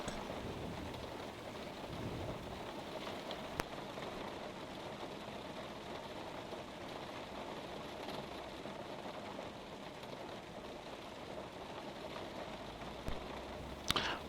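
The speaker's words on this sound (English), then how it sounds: "And man, it is raining." Rain falling in the X-Plane 12 flight simulator while flying a Cessna 172, a steady soft hiss of drops with a low cabin drone underneath and a couple of brief clicks.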